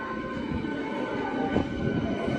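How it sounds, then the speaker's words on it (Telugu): A MEMU mainline electric multiple unit train rolls into the Anantapur station platform with a steady rumbling roar and faint wheel squeal, continuous and moderately near. "వచ్చేస్తుంది మన MEMU main line electric multiple unit"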